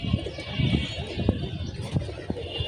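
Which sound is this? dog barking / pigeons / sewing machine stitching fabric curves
pigeons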